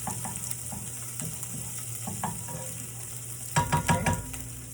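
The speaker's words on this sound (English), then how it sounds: "I've put 2 tablespoons of olive oil and 1 tablespoon of garlic. I'm gonna saute this a little bit." Garlic sautéing in olive oil in a pan, an even gentle sizzle close by, broken near the end by a quick run of louder stirring knocks and scrapes.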